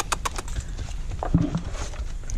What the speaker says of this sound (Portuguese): Ó o Birubiru trabalhando na doma de um égua aí.